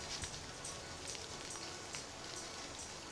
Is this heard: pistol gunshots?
no